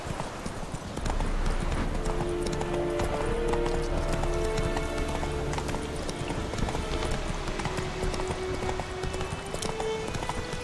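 Roach, a horse in The Witcher 3, gallops at a steady rhythmic clip-clop, loud and continuous, with a game music bed underneath and a brief whinny-like note.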